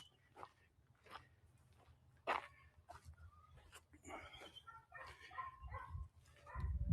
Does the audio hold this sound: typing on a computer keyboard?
no